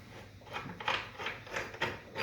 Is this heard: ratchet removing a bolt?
yes